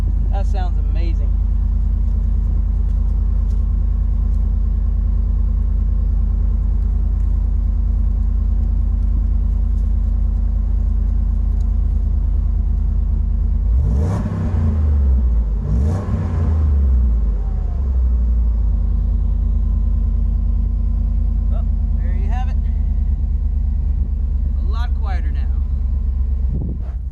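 A 2006 Dodge Dakota idles with a newly installed muffler, a deep steady rumble running throughout with a couple of brief revs in the middle, close by, while people talk over it.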